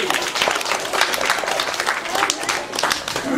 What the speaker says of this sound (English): Let's give them a big clap, please.